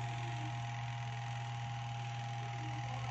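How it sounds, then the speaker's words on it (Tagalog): An electric motor spinning freely just after being rewired gives a steady, close, continuous hum with a constant pitch. It runs evenly throughout with no speech. "Umikot naman yung ating motor."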